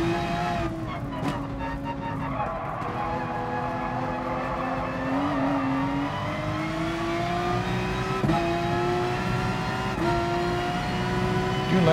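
GR.3 race car in Gran Turismo Sport at the Nurburgring, engine loud and close with a low growl beneath, climbing steadily through the revs with sharp upshift breaks and brief tire noise.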